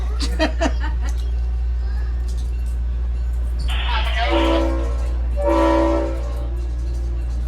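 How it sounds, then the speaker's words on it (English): A railway locomotive sounds two short horn blasts, loud and sustained with a brief gap between them, after a few quick laughs at the start of the clip. "with two short horn blasts of our locomotive, we are now officially cleared of the Y"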